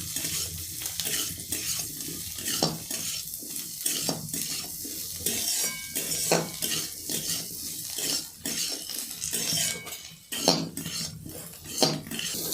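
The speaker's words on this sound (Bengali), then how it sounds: "এই গাজরগুলো একটু আমি ভেজে নেব" Diced carrots fry in a pan over ginger, onion and garlic while a utensil scrapes and clatters against the metal in an irregular rhythm over a steady close sizzle, with no talking.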